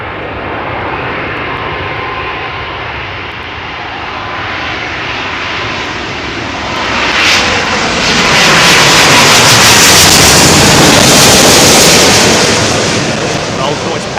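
Airbus A380 with Rolls-Royce engines landing at Heathrow runway 27L, a loud close roar of aircraft engines that swells midway and stays strong to the end, with no speech.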